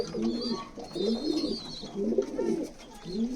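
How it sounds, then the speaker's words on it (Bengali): Teddy pigeons in a pigeon loft coo in soft, repeated throaty rolls, several birds overlapping in a steady rhythm, close and moderately loud with faint chirps in the background. "এখানেও টেডি কবুতর তো বন্ধুরা হাই ফ্লাইং কবুতরের রাজা"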